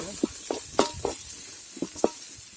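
Onions frying in a pan for a Tulu-style amaranth leaf palya: a soft sizzle under about seven sharp, close taps of a spatula stirring at uneven intervals.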